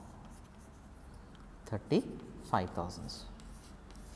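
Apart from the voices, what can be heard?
writing on a board while recording accounts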